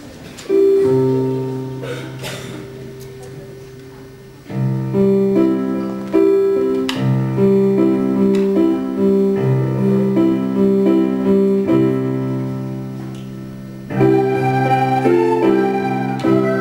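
Italian school classes perform Silent Night (Astro del Cielo) in a Christmas concert, a steady ensemble of sustained harmonized notes with a soft opening, a fuller middle section and a swelling close.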